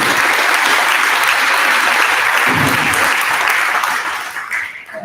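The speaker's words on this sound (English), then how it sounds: "If you all can give her a round of applause." A school fine arts festival audience applauds the accompanist, steady dense clapping that fills the hall and begins to thin out at the end.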